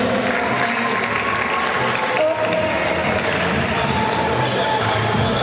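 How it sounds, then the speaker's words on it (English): Sustained applause and crowd noise from an audience at a school Founders Day prize-giving, honoring the third-place winning secondary school; the dense, steady wash of clapping carries throughout at close range. "let's give them a round of applause again"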